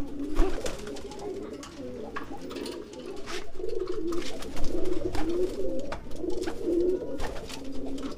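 Domestic racing pigeons coo steadily in courtship, a continuous low throaty rolling with repeated swelling phrases, close and fairly loud against faint background noise.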